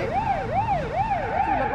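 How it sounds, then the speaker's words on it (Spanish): A police car siren in BeamNG Drive wails up and down in a smooth, steady rhythm, cycling about four times, and is heard alone at a moderate level. "¿funciona la sirena este? ¡Sí! ¡Suena diferente,"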